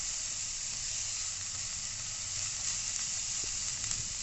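Spices roasting in a hot pan with salt, giving a steady, close, even sizzle and hiss that runs unbroken throughout, with no voices.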